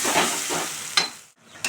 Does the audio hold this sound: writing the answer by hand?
no